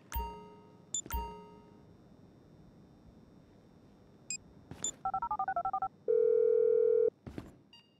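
A phone is dialed in Grand Theft Auto V: a series of quick keypad beeps, a short run of DTMF tones, then a steady dial tone, set between sharp louder clicks and bangs of game action.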